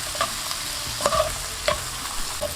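Mushrooms being stirred in butter in a pan over low heat, a soft sizzle under several sharp scraping strokes and clinks of a utensil against the pan.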